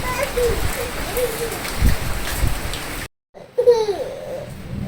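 Rain falls at night in a village during the first rain of the year, a steady patter with a brief dropout, and voices and some laughter are heard over it.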